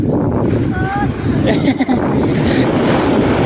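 Sea waves washing onto a beach, a steady rushing surf with strong wind buffeting the microphone throughout.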